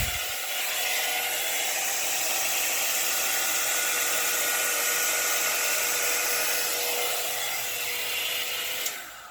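An air blower runs steadily for the Dutch pour painting technique, blasting thinned paint across the surface with a loud, even, high whooshing roar that holds for several seconds and cuts off sharply at the end.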